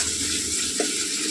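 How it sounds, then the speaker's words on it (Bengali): Curry sautéing in a pan, a steady broadband sizzle with a faint low rumble, one small tap near the end, continuous and close with no talking. "এটা আমি কষাচ্ছি"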